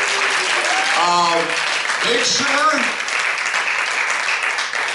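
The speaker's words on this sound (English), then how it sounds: "Let's give a round of applause for them." Theater audience applauding for a community theater group, broadband clapping sustained throughout while someone speaks over it.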